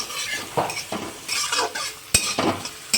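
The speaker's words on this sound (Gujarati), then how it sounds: "હવે કોબીને પણ હું ગોલ્ડન બ્રાઉન સુધી હલાવી લઈશ" Cabbage and golden-fried onions stirred in a pan for tawa pulao, with close, loud scraping strokes in a quick irregular rhythm over a constant frying sizzle and a couple of sharp knocks against the pan.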